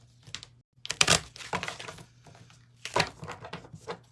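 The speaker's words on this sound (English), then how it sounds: "I'm just going to shuffle these one more time." A deck of oracle cards being shuffled by hand, giving quick papery riffles and slaps in short bursts, close and moderately loud, with brief pauses between them and no talk.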